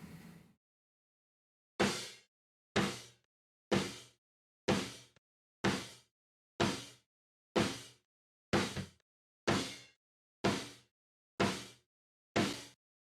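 A snare drum hits about once a second, twelve strikes in a row, each opening gated room mics for a loud burst that quickly decays before the next hit.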